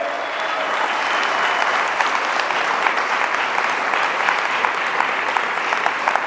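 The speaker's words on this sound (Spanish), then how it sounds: "Denle un aplauso al Señor por el remanente." A church congregation applauds together during a sermon, a dense, steady wash of many hands clapping at close range that holds for the whole stretch without letting up.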